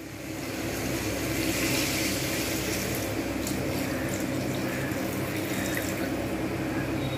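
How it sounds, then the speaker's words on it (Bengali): Water pours steadily from a tap into a brass pot of pumpkin, pointed gourd and potato pieces, a close continuous gushing splash that swells in the first second and then holds even. "এবার আমি এতে জল দিয়ে এগুলো ভালো করে সিদ্ধ করে নেব।"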